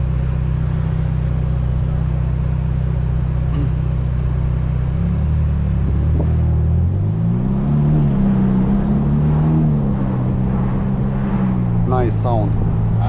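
A Ferrari Portofino's twin-turbo V8 rumbles at a low idle, then rises and falls through several revs as it pulls away on the road near Maranello, heard steadily from inside with people talking over it.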